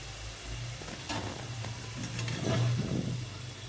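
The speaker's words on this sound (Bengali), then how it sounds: "আমি আলুটা প্রথমে দিয়ে ভেজে নিচ্ছি" Potatoes frying in oil with salt and turmeric, a steady close sizzle with stirring scrapes that swell toward the end, with no talk.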